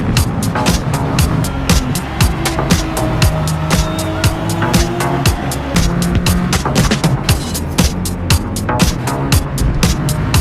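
Race cars, a Honda NSX and a Nissan GT-R, screaming through corners in a rolling race, with loud sustained engine roar and rapid shifting revs that continue without pause.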